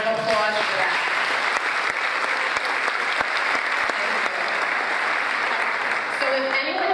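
Applause from the audience at a Nutley Board of Education meeting, a steady, dense clapping that fills the room and holds throughout at fairly close range.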